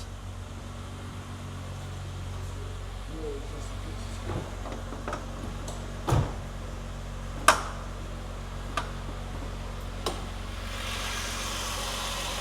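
A car engine idles with a steady low hum, broken by a few sharp clicks and knocks nearby.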